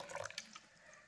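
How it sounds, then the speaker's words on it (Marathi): Water trickles and drips faintly into a bowl of chopped spring onion for rice-flour batter, a brief, quiet pour with a few splashy droplets and no voices. "आता यामध्ये आपण पाणी घालायचं आहे."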